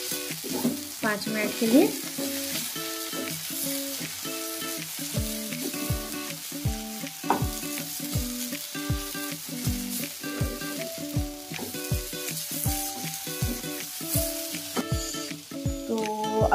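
Halwa ingredients roast in hot oil in a pan while being stirred, giving a steady frying sizzle. Regular scraping strokes of the spoon repeat under it, and someone speaks briefly.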